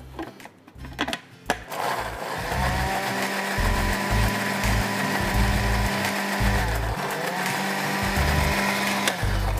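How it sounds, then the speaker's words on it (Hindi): A blender whirs loudly and continuously, blending soy sauce with ginger, garlic, red chili paste, rice vinegar, sesame oil and honey into a Korean fried chicken sauce, after a brief clatter as it starts up. "ये है सोया सॉस जो हमने डाला है डिपिट का। अब हम इसको ब्लेंड कर देंगे।"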